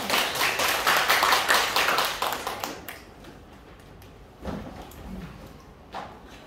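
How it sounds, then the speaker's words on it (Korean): Audience applause at the close of a Korean-language teacher training lecture, a dense burst of many hands clapping for about three seconds, then fading to a few scattered claps and small room noises. "박수 주세요"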